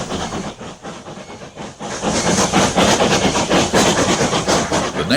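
A British Railways 9F steam locomotive heads a heavy freight up a gradient with four banking engines pushing, a dense roaring hiss and rapid chuffing that swells louder midway and stays heavy, with no voices.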